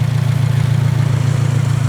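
A 2023 Subaru WRX, lightly modified, idles with a steady, loud low-pitched drone and an even pulsing throb, heard up close with no voices over it.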